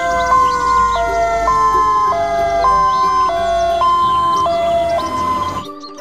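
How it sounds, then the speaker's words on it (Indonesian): A loud two-tone fire truck siren alternates steadily between high and low pitches, close by, with no talking over it. "ada mobil pemadam kebakaran besar"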